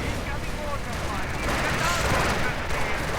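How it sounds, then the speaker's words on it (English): Artillery fire in a Company of Heroes Eastern Front mod battle, heard as a dense continuous rumble of explosions and gunfire with a swelling blast partway through and no clear gaps. "Artillery getting called in against them as well."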